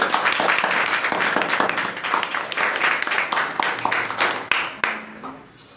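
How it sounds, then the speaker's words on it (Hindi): An audience claps for a first-prize winner at a coaching centre's prize distribution, loud, fast individual claps close by that gradually thin out and fade toward the end, with some faint voices at the close. "तो शिवम विश्वकर्मा के लिए ताली बजाएं"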